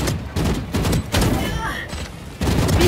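A spiral bomb ultimate detonates in a video game as a rapid series of loud booming blasts in bursts, with an excited voice talking over the explosions.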